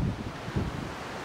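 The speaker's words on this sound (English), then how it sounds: "In a windy area" Strong wind buffets the microphone beside a hexbeam antenna in a very windy spot, a close, loud rumbling roar with a couple of gust surges over about a second.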